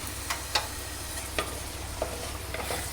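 Prawn roast is stirred in a pan, with a few soft scrapes and taps at irregular intervals over a low, steady cooking hum, with no talking.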